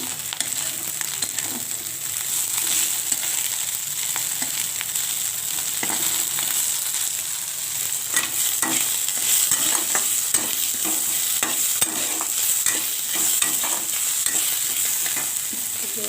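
Spring onion greens, garlic and capsicum fry hard in a pan beside frying fish, a constant loud sizzle punctuated by repeated scraping stirs throughout, with no voices.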